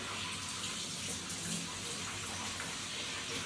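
Running water rinses a dog in a bath, a steady close hiss and splash of spray from a faucet or hose continuing without a break.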